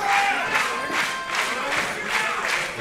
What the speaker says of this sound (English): The crowd getting behind Superfly.